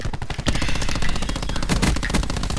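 Rapid submachine gun fire from Call of Duty Black Ops 4, a dense sustained burst of automatic shots running loud and continuous with no talking over it.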